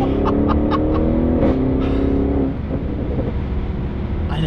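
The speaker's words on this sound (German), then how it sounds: "hört einfach mal, wie krass das Auto dann sofort bollert" A powerful Audi RS6 Performance engine revs loudly up close, the pitch climbing and holding before dropping back to a deep, rumbling idle.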